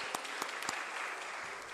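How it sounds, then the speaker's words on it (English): Audience applause fills a listing ceremony for Fascinate Textiles Limited, a steady patter of many hands clapping at moderate distance with a few sharper claps standing out, continuing throughout. "A huge round of applause for each and every one of you for joining us today"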